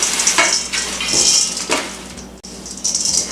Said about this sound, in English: in a large bowl, stir together thawed hash browns,